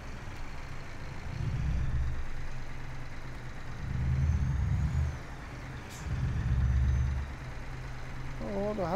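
Heavy-haul truck with a steering trailer setting off in Euro Truck Simulator 2, deep engine rumble swelling in three surges as it pulls away, with a hiss near the end.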